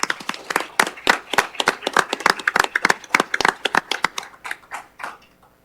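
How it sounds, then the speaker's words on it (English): A small group at a city council work session claps in sparse, distinct hand claps that gradually thin out and fade over several seconds. "So let's give a round of applause for it."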